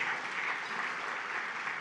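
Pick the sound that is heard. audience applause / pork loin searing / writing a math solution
audience applause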